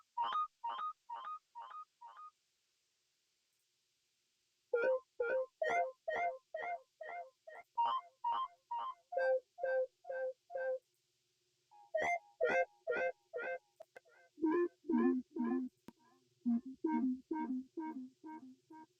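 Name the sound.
synth lead one-shot from Ruins kit with Valhalla delay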